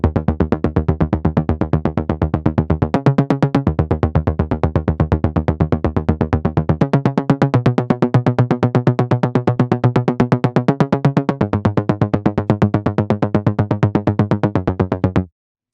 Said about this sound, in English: So the bass stab sounds like this.